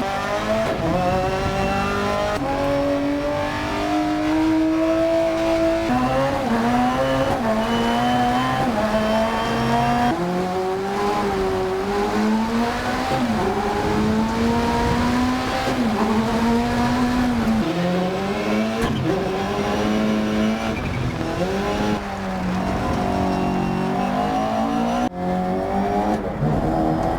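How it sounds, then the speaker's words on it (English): Rally car in the DiRT Rally 2.0 video game, engine revving and shifting continuously through gears, with tire noise, squeaking brakes, whining transmission and gravel rattling in the wheel wells, loud and close throughout. "squeaking brakes, whining transmissions, and gravel bouncing around in the wheel wells all work together to enhance your sense of immersion"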